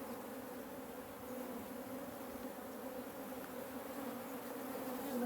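Honey bees droning around an African honeybee hive during a post-winter inspection, a continuous low, even buzz that swells slightly toward the end, faint and steady with no talking.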